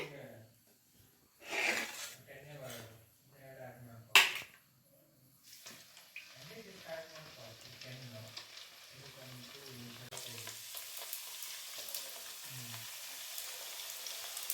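Coconut karjikai pastries fry in hot oil as a new batch goes in, a faint sizzle that swells into a steady bubbling hiss, with someone talking quietly over it.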